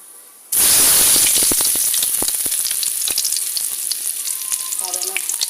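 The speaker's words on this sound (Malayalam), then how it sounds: "ഉള്ളി ഇട്ട് കൊടുക്കാവേ." Onions dropped into hot oil with mustard seeds: a sudden loud sizzle bursts in and settles into steady, close crackling frying with scattered pops.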